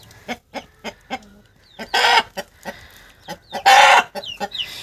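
A hen, a broody one, clucks in short repeated bursts, close by, broken by two louder squawking outbursts and small chirps from other birds.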